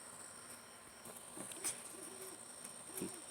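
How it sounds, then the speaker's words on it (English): An owl hoots at night, a few faint, soft low calls far off behind steady background hiss and a high insect-like whine, with no talk. "That was an owl."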